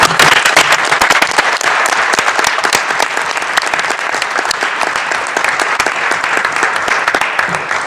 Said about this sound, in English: I'm going to ask that the members please join me in giving them a round of applause